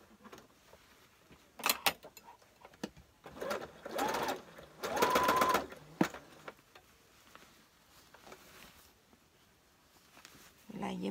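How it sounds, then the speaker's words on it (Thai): Sewing machine stitching the armpit seam of a shirt, running in several short bursts of steady motor whirr separated by pauses, close and fairly loud, with a voice speaking between runs. "เอาค่ะเย็บรักแร้เลย"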